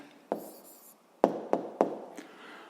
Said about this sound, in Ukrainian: Отже, пишемо відповідь.